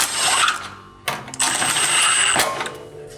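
Exhaust clamp nuts being run down on a 2005-2014 S197 Mustang over-axle pipe, heard as rapid metallic ratcheting bursts, close and fairly loud, in two or three quick runs with brief pauses.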